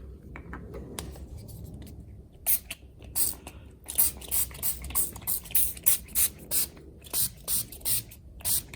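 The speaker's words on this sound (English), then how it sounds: "now we're going to use this guitar polishing cleaner on the" Short hissing bursts of Dunlop guitar polish cleaner sprayed onto an Ovation acoustic guitar body, a dozen or so close, bright spritzes in an uneven rhythm over a low background.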